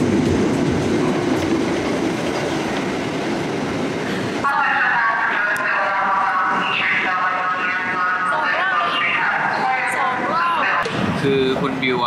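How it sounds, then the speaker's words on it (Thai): A New York subway train rumbles in and rolls past with rhythmic clatter and squealing, metallic wheel noise, loud and close, then the roar changes as cars pass. "คุณบิวอ่ะเขาอยากถ่ายกับรถไฟสวยๆตอนที่รถไฟมาแล้วก็วิ่ง"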